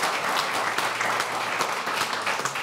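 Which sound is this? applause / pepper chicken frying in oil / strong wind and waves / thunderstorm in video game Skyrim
applause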